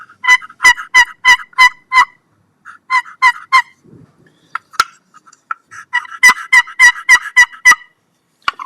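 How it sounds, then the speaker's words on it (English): A wooden box turkey call is stroked into rapid runs of sharp, raspy yelps, loud and close, in several bursts with short pauses between them and no talking. "nice sounding call right there from that Todd Rupert's Roost and Peace turkey call"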